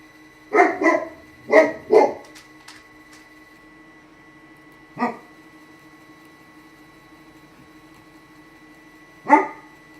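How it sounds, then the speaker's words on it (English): A dog barks in short bursts indoors, a quick double and paired pair of sharp barks early, then two single barks spaced apart, loud and close against a quiet hum. "Stop barking, Gracie."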